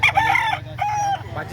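Chickens and a rooster at a poultry market in Lipa, Batangas, with two long, loud crows close by, separated by a short gap, over a steady background of clucking and market noise.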